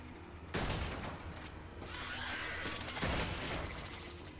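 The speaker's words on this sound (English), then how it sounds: "I love to shoot this gun." Gunfire from a player's gun in the Warframe video game, a rough, dense stream of shots with loud bursts near the start and again after the midpoint, sustained noisy crackle between them and no voices.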